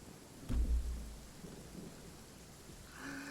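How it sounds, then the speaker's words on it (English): Rain begins in the video game Genshin Impact, opening with a sudden thunder rumble and settling into a soft, steady patter of rainfall, no voices. "As soon as he says the weather's so nice, it starts fucking raining."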